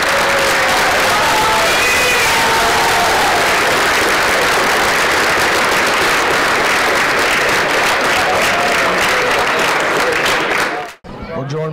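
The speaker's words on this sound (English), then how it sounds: "Start clapping." A crowd at a high school football National Signing Day bursts into sustained, dense applause that runs for about ten seconds before cutting off abruptly.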